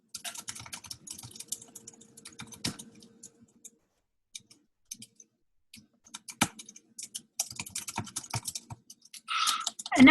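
Fingers type on a wireless computer keyboard, close and crisp, in irregular bursts of clicking keystrokes separated by short pauses, growing busier and louder toward the end.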